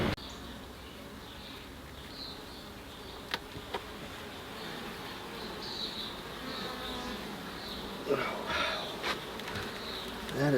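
Honey bees buzz steadily around an urban backyard beehive after a second winter, a continuous close hum with individual insects swelling louder as they pass near, and no talking over it.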